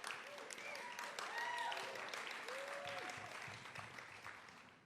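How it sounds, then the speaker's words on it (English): Audience applause at a 2024 college commencement ceremony, a steady, faint wash of distant clapping running beneath a speaker's voice. "That's worth clapping for."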